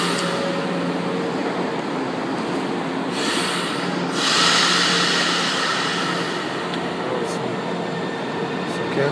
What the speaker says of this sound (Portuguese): Tem o trem ali embaixo.